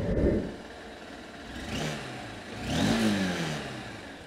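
A 2023 Honda SP 160 Deluxe motorcycle engine cranks on the self-start and starts, idling with a low rumble and a couple of gentle revs, recorded close and moderately quiet.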